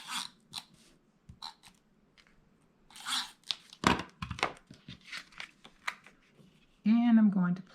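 Tape runner laying adhesive tape onto paper for a scrapbook-style trifold card holder: short dry clicks and crinkly rasps in brief bursts, close up, with a voice talking over them and a louder hum near the end.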